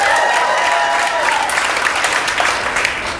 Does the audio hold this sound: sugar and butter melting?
no